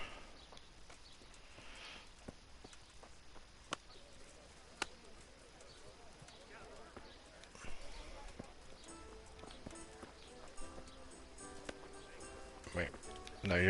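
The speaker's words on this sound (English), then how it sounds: "Hopefully I can still ride my horse well." Hooves clip-clop at a steady pace in the video game Kingdom Come: Deliverance, faint and mixed with a low ambient bed of game sounds, with occasional sharp clicks.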